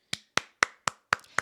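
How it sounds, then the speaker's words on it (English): Six crisp, isolated hand claps ring out at an even, steady pace, close and clear with brief decays between each. "give Miss Britney the hand clap that she so deserves"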